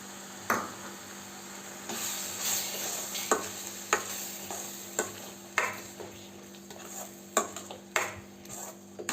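Ground tomato sautés in hot oil for egg kurma, a soft steady sizzle punctuated by repeated metallic clinks and scrapes of a spoon stirring against the pan.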